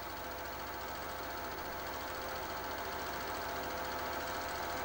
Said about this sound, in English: the first of the major races between Bob Jane's Jaguar and Norm Beachy Chev Impala